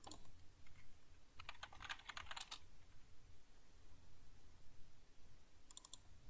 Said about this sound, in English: To scan whole network, type nmap and change last number in your IP/24.